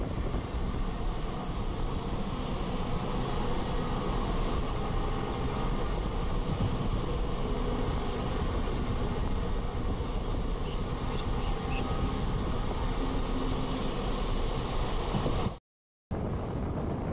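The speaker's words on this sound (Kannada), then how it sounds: "ನಮ್ಮ ಟ್ರೈನ್ ಈಗ ಇಂಡಿ ರೋಡ್ ರೈಲ್ವೆ ಸ್ಟೇಷನ್ನ ಸ್ಕಿಪ್ ಮಾಡ್ತಿದೆ" Steady broadband rumble of a passenger train running through Indi Road railway station on the Solapur to Hospet line, a continuous rushing wind-and-rail noise heard from on board, with a brief dropout near the end.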